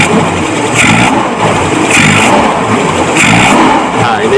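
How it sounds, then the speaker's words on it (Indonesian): Suzuki Katana carburetor engine blipped with sudden throttle, loud close revs surging in three repeated pulses over a steady running idle. "Nah, ini terjadi delay saat digas kejut."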